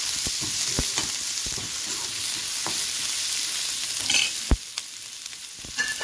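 Leftover roti crumbled into kuskura fries in oil with onion, a constant close sizzle broken by spatula scrapes and a couple of sharp taps against the pan.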